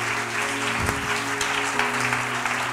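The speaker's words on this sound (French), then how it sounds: "Je voudrais que tu acclames pour ces entités-là" A church congregation applauds steadily through a dense, continuous wash of clapping, with a faint low hum of sustained tones underneath.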